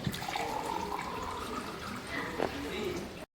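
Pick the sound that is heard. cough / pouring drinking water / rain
pouring drinking water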